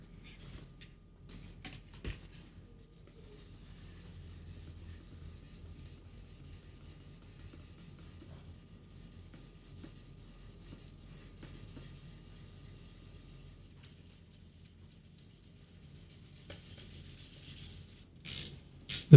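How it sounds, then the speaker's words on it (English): Thick polyurethane finish on an old Fender Stratocaster guitar being rubbed down with micro abrasion pads, a steady soft scratchy sanding hiss that runs continuously for most of the stretch, close and fairly quiet, ending with a few handling knocks. "I'm going to get into this with my micro abrasion pads."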